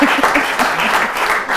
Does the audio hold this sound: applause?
yes